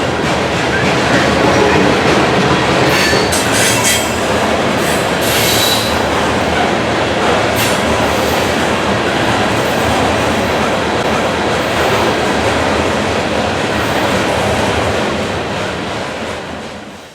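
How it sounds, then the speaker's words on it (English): A heavy eastbound BNSF coal train rolls past a small-town depot while climbing a grade out of town. A loud, sustained rumble of cars and wheels fills the whole stretch, with wheel squeal and rail clatter, before it fades slightly at the end. "Heavy eastbounds noticeably slow down as they pass by the depot and dig into the hill that carries them out of town"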